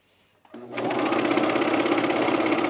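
A sewing machine stitches a seam on pajama bottoms, starting after a brief pause and then running steadily and loudly at a fast, even hum for the rest of the clip.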